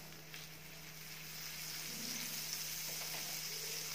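Butter sizzling steadily in a pan as a cheese corn sandwich toasts, a soft, continuous frying hiss with faint stirring movements, no voices.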